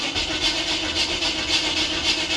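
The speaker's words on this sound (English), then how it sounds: "Might be cranking too slow." An engine cranking slowly on a weak battery without catching, a steady droning starter churn with a faint rhythmic pulse, close and continuous throughout.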